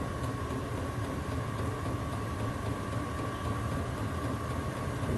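A VEVOR diesel heater runs on a mix of 75% stale unleaded petrol and 25% diesel, a steady close mechanical drone with a faint whine and continuous combustion rumble, no voices.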